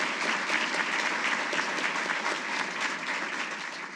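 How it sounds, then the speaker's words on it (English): Steady, dense applause from a large audience at a Hall of Fame induction ceremony for the DLA Class of 2019, sustained and even throughout with no break. "One more round of applause, please, for the DLA Hall of Fame Class of 2019."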